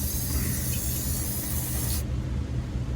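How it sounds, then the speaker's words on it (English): An aerosol can of spray paint hisses steadily for about two seconds while coating a Nissan Altima SER, close and continuous, then cuts off abruptly, leaving quiet. "just rebuild it with this can of spray paint here"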